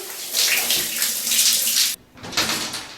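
Shower water running and splashing in a bathroom, loud steady hiss that briefly cuts off near the end, then resumes, with no voices.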